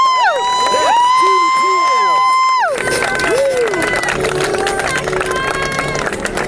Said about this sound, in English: Applause, everybody. Let's hear it.